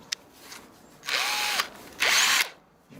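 A power drill fitted with a cutter bit bores a hole in a coconut shell for a bird feeder, running in two loud, steady bursts of about half a second each separated by a short pause.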